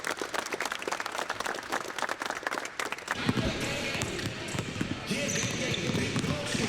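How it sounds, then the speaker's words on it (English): Crowd applause for parents fills a gym at a youth basketball clinic. Sharp ball bounces sound early on, then the claps grow into a dense, steady wash. Voices talk over it throughout. "Give a round of applause to your parents for bringing y'all out here"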